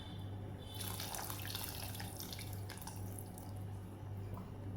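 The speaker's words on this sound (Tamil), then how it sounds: "கொஞ்சம் புளி ஊற்ற போகிறோம்." Tamarind water poured into a simmering sambar of eggplant, drumstick and raw mango, a soft steady liquid trickle and splash close by over a low constant hum.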